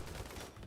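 Gunfire from a Rimworld colony battle, a dense fusillade of rapid overlapping shots that rattles steadily for under a second at moderate level.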